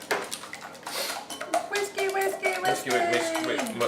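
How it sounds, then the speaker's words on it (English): Five eggs whisked in a bowl for a lemon tart, rapid clinking and scraping strokes that run steadily and close throughout. "So we've got 5 eggs, which we are whisking."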